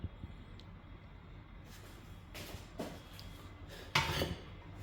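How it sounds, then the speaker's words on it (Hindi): In a village outdoor kitchen, mutton goes into a pressure cooker amid a few faint metallic clinks and clatters of pots and utensils, the sharpest clank near the end, over quiet background. "मैंने मटन कुकर में ऐड कर दिया है"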